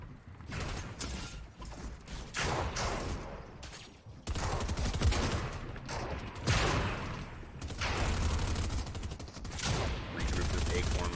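Dense, continuous gunfire from a Fortnite cash cup match plays as rapid overlapping shots and mechanical clatter, steady and loud throughout without a break.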